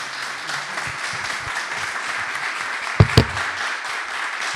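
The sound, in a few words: audience applause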